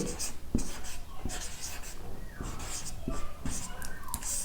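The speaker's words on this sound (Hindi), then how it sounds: "अथर्वा हिंदी में लिखेंगे" An answer is written out in Hindi during a history class, a close series of scratchy strokes with short pauses between them.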